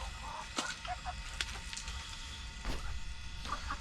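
A backyard duck gives short honking quacks among scattered clucks and rustles, close by and moderately loud, with a few separate calls over a low background.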